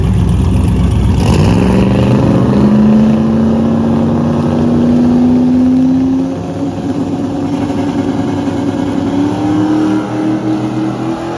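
A drag race car making its first pass at Rocky Mountain Race Week, its engine note climbing steadily through a long pull, loud and continuous, with no talk.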